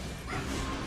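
A dog yips and whimpers faintly in the background, a single muffled burst that rises briefly over a steady low hum.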